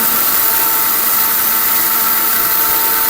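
A high-power Ricco blender grinding lentils (dal) runs as a loud, constant motor whine with a buzzing roar, steady and close for the whole stretch.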